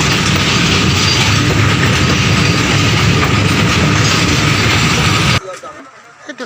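A train runs along the railway line beside a market with a loud, close, continuous rumble and rhythmic wheel clatter, then cuts off abruptly, leaving quiet surroundings.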